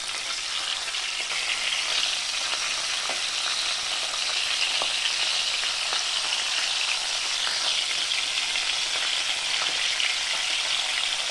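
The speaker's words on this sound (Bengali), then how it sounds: "গ্যাসের আঁচ মিডিয়াম রেখে মাছগুলোকে ভেজে নেব আমি" Pieces of katla fish fry in hot oil in a pan over a medium gas flame, giving a loud, continuous sizzle with scattered pops and crackles and no voices.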